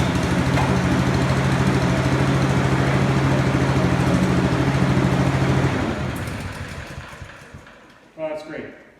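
The petrol engine of a PPV fan runs loud and steady with a constant hum, then cuts out and winds down, followed by a brief clatter as it stops.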